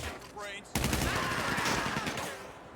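Rapid bursts of automatic gunfire from an online multiplayer match in GTA Online, starting abruptly and continuing densely and loudly to the end, with game effects and faint talk mixed underneath.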